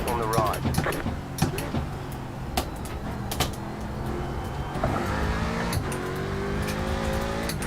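Racing cars drive and pass in a racing video game, engines droning and revving with rising pitch sweeps and sharp clicks, while people talk over the racing.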